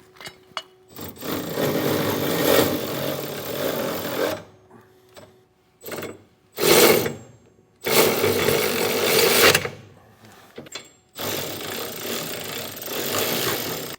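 A power tool drives the mounting bolts and hardware of a Curt EZr Double Lock underbed gooseneck hitch on a 2025 Chevrolet truck. It comes in loud, close bursts of a few seconds each, separated by brief pauses.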